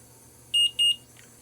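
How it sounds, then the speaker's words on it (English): An Omnipod insulin pod gives two short, clear electronic beeps close by in a quiet room once it is filled with insulin, followed by a fainter third chirp. "That beep means it's ready to go."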